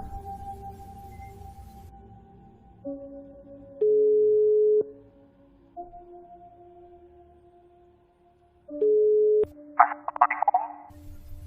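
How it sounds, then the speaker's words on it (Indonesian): Steady electronic tones step between pitches with two louder sustained beeps, then a brief crackly burst near the end, like a phone line ringing without anyone picking up. "Telepon tersambung, tapi tidak diangkat."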